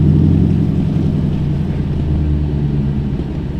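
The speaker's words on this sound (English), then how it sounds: "Hold on, car pulling." A car idles or rolls up close by at night during a severe snowstorm, a steady low engine rumble holding throughout at fairly loud level with no voices.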